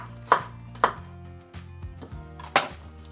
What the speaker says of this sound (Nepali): Onions लाई चाहिँ we have to cut this way.